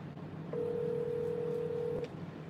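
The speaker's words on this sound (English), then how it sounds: "And I wonder if this client will pick up the phone." A single steady telephone tone rings out for about a second and a half while a call is placed to a client, clear and close over a low background hum.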